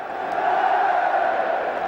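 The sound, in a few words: football crowd cheering at FA Cup Final replay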